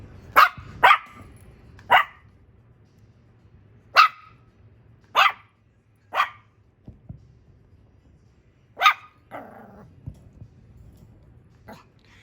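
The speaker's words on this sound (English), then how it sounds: "She's barking because she wants attention or she wants to play with Peanut." A female dog barks for attention, about nine sharp, separate barks spaced irregularly and close to the microphone, with a faint whimper near the end in an otherwise quiet room.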